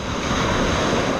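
Surf crashing into white water around rocks along a fishing coast during a big swell, a steady loud wash of broken water with wind noise on the microphone and no talk.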